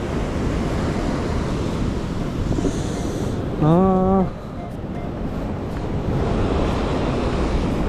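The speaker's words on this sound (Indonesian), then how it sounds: "Yang sini ombaknya lebih gede." Ocean waves roll steadily onto the shore, a constant loud wash of surf mixed with wind buffeting the microphone. Partway through, a short tonal squeal cuts in briefly.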